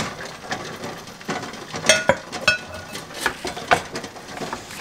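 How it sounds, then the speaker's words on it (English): A spoon stirs blueberry jam mixture in a pot on the stove, with irregular clinks and knocks against the metal over a soft background, loudest near the middle. "And then she's just going to stir it all up."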